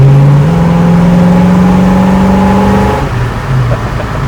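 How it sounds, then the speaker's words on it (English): A 1968 Ford Mustang coupe with a V8 revs up at full throttle from inside, its engine note rising steadily for about three seconds, then dropping off as it shifts and pulls again, loud and close. "Mind if I floor it?"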